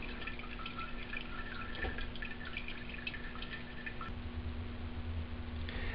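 Liquid drains from a 2 gallon still in small, uneven drips and trickles, faint and close against a quiet hum, with a sharp tick partway through and no voices.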